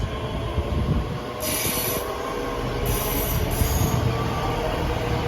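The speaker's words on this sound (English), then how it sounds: "arriving in at the same time is the slightly delayed 1607 ScotRail service from Dundee to Edinburgh Waverley" A ScotRail passenger train from Dundee pulls into Haymarket station with a loud, steady rolling rumble, and high wheel squeal rises in several separate bursts as it slows.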